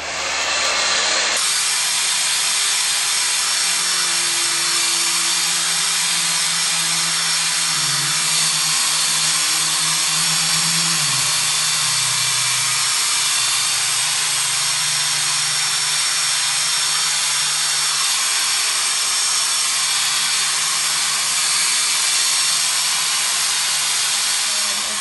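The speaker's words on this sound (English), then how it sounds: "and then now I can blow dry. And I'm going to use just a cool setting." Hair dryer running on a cool, no-heat setting to blow-dry curls, a steady loud broadband whoosh of air that holds for the whole stretch with slight shifts in tone as it moves.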